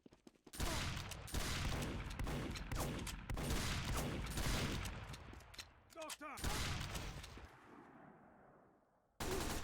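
Rapid gunfire from the Team Fortress 2 video game, apparently from a cheating player using an aimbot, forms dense continuous bursts with brief gaps, loud and up front.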